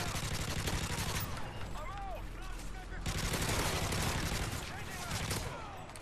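Dense gunfire in the video game Modern Warfare 3: sustained rapid bursts and volleys, loud and continuous, with whizzing ricochets and a short lull midway.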